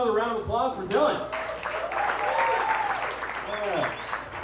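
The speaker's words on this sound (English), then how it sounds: "Give him another round of applause for Dylan." Audience applause for comedian Dylan Hughson at a standup comedy night at the Milk Parlor, a steady close round of clapping and cheers with a voice speaking over it throughout.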